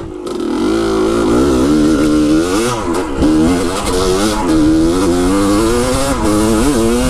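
A dirt motorcycle fitted with a Lectron carburetor revs hard and close, the engine pitch swooping up and down through repeated throttle blips and sustained pulls, loud and alone.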